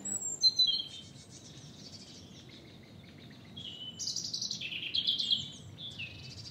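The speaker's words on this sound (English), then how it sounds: "Bird life has done nothing but increase down here." Wild birds sing and chirp near water in a nature area, with several bright calls and trills of moderate loudness rising over a low rumble of background noise.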